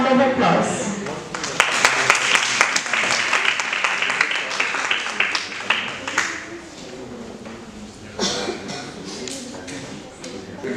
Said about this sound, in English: Please welcome sir with a round of applause.